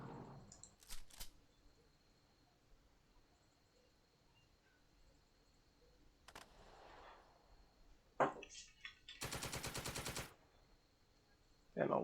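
Machine gun fire in the war game Second Front, a few short bursts and one dense rapid rattle lasting about a second near the end, separated by quiet stretches and sharp isolated cracks.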